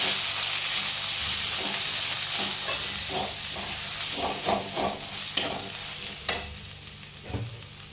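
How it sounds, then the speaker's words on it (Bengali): Spice paste with coriander powder and Kashmiri chili powder sizzles and fries in a kadai while being stirred, a steady close hiss with scattered scraping and clinking spatula strokes. "মশলাটা আমি ভেজে নেব"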